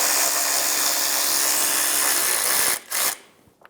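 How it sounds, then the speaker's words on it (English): A 10mm socket on a ratchet drives out a bolt holding the plastic shield under a 2007-2011 Toyota Camry. The tool gives a loud, continuous whirring buzz for nearly three seconds, then stops with a short final burst. "Using a 10mm socket, remove the bolt for the plastic shield."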